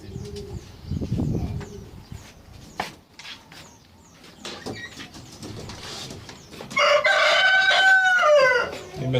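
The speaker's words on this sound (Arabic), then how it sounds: "كما تشوفوا معنا اخوان، هادو هما الحميمات" Homing pigeons in a modest loft coo and flutter near the listener, soft scattered calls and rustles, with a louder burst of cooing toward the end.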